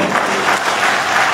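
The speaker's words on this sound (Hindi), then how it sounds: "जरा ताली बजाओ तो जोर से बजाओ" At a political rally, a crowd bursts into loud, dense clapping that fills the short moment in a thick burst of applause.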